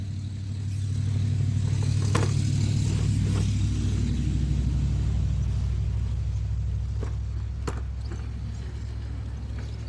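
Heavy Traxxas TRX4 RC truck with a high-torque brushless servo crawling over an outdoor course, a steady low motor drone with occasional clicks and clatters from the chassis, close and continuous without talk.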